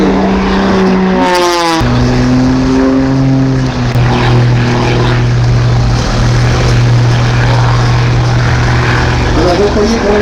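Aerobatic propeller plane at the Villeneuve-sur-Lot air festival roaring as it accelerates hard, a loud sustained engine drone with a sweeping pitch shift near the start, while someone comments in French.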